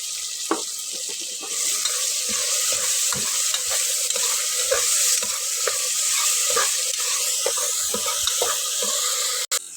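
Crushed ginger and garlic sizzle steadily in a pan with tomato for a soya biryani, with repeated scraping and stirring clicks over the hiss at close range and no talk.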